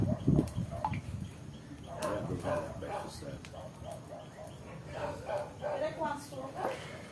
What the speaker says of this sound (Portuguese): Os cachorros ficam com medo.